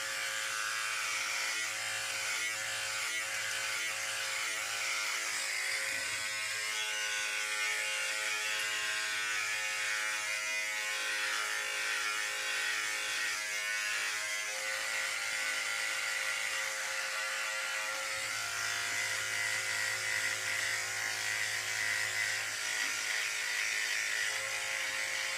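Electric beard trimmer working along the jawline and neckline, a steady close buzzing whir that holds for the whole stretch with slight changes in pitch as it moves over the hair.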